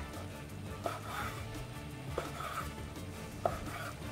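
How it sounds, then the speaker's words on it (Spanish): A kitchen knife slices a brined pepper into thin strips, with three distinct cutting taps spread evenly over a quiet background. "el pimiento que tengo acá en salmuera, lo voy a ir cortando en tiritas"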